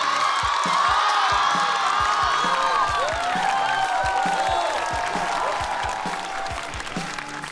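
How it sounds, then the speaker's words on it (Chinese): A studio audience at a stand-up comedy show applauds with whoops and cheers as a comedian is introduced, a dense sustained wave of clapping that tapers slightly. "掌声有请宋万博"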